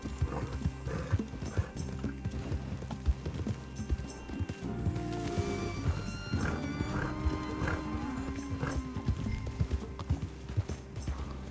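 Horse hooves clip-clopping steadily while riding in Red Dead Redemption 2, a rhythmic trot with occasional whinnies and snorts, moderately close over a soft ambient background.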